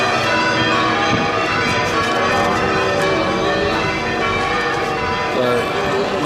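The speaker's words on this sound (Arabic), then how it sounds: "جرس الكنيسة ضرب" A church bell in Greece rings loudly with dense overlapping tones, sustained throughout amid crowd noise and voices nearby.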